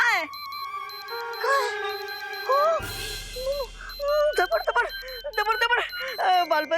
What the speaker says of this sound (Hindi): ये एक चेतावनी यंत्र की आवाज है जो तुम्हारे सिर पर बज रहा है।